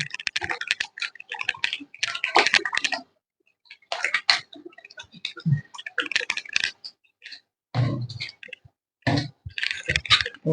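Ghee being mixed into a pot of thin beef and vegetable khichuri, with intermittent clinks, taps and scraping of a spoon against the pot in short bursts separated by brief pauses, close and fairly quiet with no talking.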